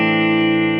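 A sustained clean electric guitar chord rings out through a Line 6 Spider V amplifier on a Fender-style simulation, loud and steady with a bright, even tone that holds across the whole moment.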